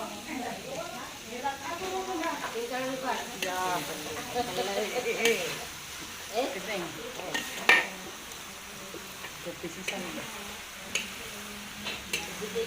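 A huge jumbo batch of bakmi goreng noodles is stir-fried for a celebration feast, with metal utensils scraping and clanking against a large pan and a faint sizzle beneath, while people chat nearby.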